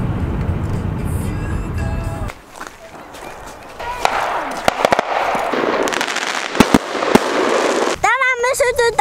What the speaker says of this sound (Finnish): Tänään me sytytään raketteja, kun tänään on uusi vuosi.